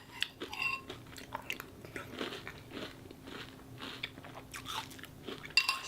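Nature's Path Crunchy Vanilla and Cinnamon cereal softened in milk is chewed close up, giving quiet, irregular crunching and soft mushy bites with faint spoon clinks.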